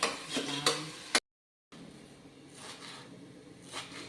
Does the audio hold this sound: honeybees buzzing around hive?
no